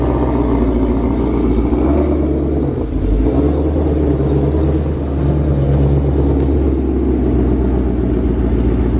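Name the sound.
1000hp 2020 Shelby GT500 running on a dyno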